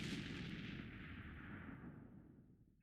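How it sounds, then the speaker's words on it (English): Artillery fire on a Civil War battlefield in Grand Tactician, a faint, distant rumbling blast that rolls and slowly fades away, heard alone without talk. "We've got a little artillery going onto their flank."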